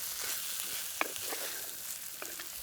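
Grated coconut with turmeric and masala sautéing in a pan for a chicken meatball curry, a quiet close sizzle with a few soft scraping stirs and a sharp tap of the spatula.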